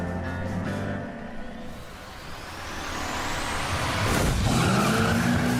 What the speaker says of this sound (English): Pitbull's truck flies off the start line.